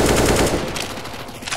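AK rifle fired in a rapid full-auto burst in CS:GO, loud and dense with hard overlapping cracks at first, then tailing off into scattered distant shots and game ambience.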